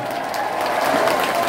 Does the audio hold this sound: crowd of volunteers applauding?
yes